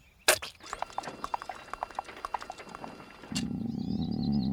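A cartoon horse clops along in a quick, even rhythm of hoofbeats, then a louder animated whinny-like cry takes over near the end.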